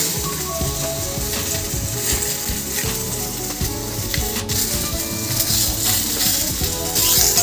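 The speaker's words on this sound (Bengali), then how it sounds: "এদিকে দেখুন আমার পটল মোটামুটি ভালো করে ভাজা হয়ে গেছে।" Pointed gourd (potol) frying in oil in a wok, a steady close sizzle with light crackling and occasional scrapes of stirring, continuous throughout with no speech.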